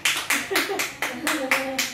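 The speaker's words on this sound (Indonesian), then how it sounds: "Tepuk tangan." About eight crisp, evenly spaced hand claps sound in quick rhythm over two seconds, close and fairly loud, with a voice faintly audible between them.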